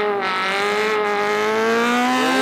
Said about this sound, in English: Listen to those engines roar away.